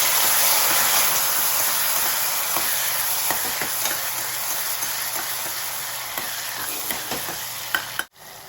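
Cumin seeds and garlic-chili paste sizzle steadily in hot oil, a dense close crackle with occasional sharper pops, continuous for several seconds before cutting off abruptly near the end.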